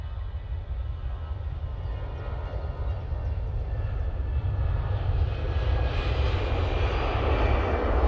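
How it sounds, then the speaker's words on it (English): An EasyJet airliner passes at Manchester Airport, its low jet engine rumble rising gradually in loudness as it nears, heard on its own. "There goes the EasyJet with the Amy Johnson Pilot Initiative decal on the front of it."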